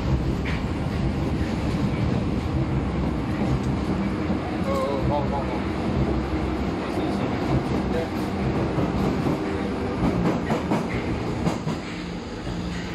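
A metro train rumbles continuously through an underground station, a loud steady roar of wheels on rail with faint clatter throughout.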